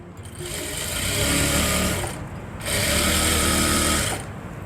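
A sewing machine stitches a kurti seam in two close, loud, continuous runs of rapid whirring stitches, separated by a short pause.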